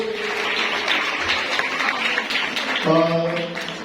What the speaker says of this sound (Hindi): जोरदार तालीम बजाएगा इनके लिए